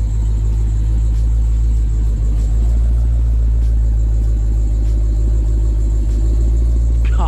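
A Dodge Hellcat rated around 1,000 horsepower rolls off a trailer, its engine a deep, loud, steady rumble that holds close and continuous throughout with no talking.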